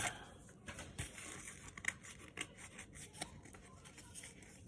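Crinkly wrapper rustling and tearing from a sports card pack being opened by hand, close and steady with sharp little crackles throughout, no talking.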